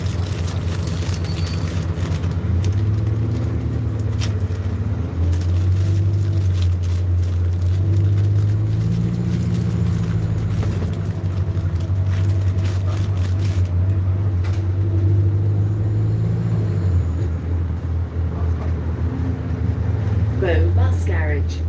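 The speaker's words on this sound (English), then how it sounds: "Bus garage." Buses idle and rumble in a garage, a deep engine drone that swells and eases, with steady mechanical hum and a brief sharper burst near the end, and people talking underneath.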